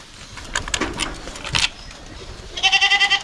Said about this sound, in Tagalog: Marami tayong kambing dito na lalaki.